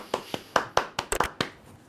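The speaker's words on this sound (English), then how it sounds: "Round of applause to the makers of this film." A few people clap hands in a short, uneven burst of about eight sharp claps, close and fairly quiet, the pace quickening briefly near the middle.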